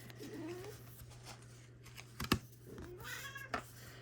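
A pet cat named Coraline lets out a few soft, faint meows, with a short thump around the midpoint and a low steady hum underneath. No one speaks.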